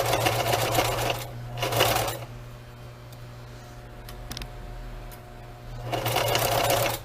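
An electric sewing machine stitches a seam down a cotton dish towel in three loud, close bursts, the first two brief and back to back. A quieter pause with faint ticking separates them from the last burst.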